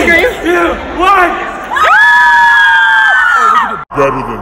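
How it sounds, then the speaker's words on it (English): A group of people screams together on cue, a loud sustained shrill yell lasting over a second, preceded by scattered shouts and whoops and followed by a brief drop and more voices. "Three, scream. Two, one."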